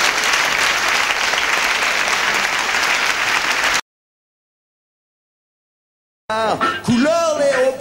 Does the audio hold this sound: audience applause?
yes